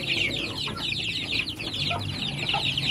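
Chicks in a backyard farm pen, a dense continuous chorus of high cheeping close by, with low clucking underneath throughout.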